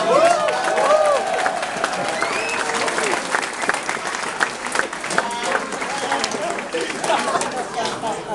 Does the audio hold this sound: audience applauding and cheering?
yes